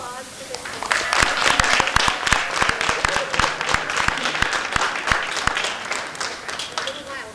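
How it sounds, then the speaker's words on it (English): A round of applause breaks out at a school board meeting, a room of people clapping in sharp, distinct claps that swell and then taper off, with brief talk at the edges. "We have one more round of applause for this one."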